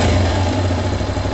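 A Chinese 250 dual sport motorcycle fitted with a Mikuni VM26 carburetor idles close up, its steady mid-pitched engine drone loud and continuous, settling back down after a rev.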